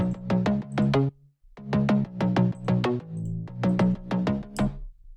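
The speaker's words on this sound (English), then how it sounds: "It's called Bass Donk, and it sounds like this." A synth bass preset called Bass Donk plays a bouncy, punchy future trance pattern, with short rhythmic notes in quick groups, a brief gap, then the pattern resuming loud and up front.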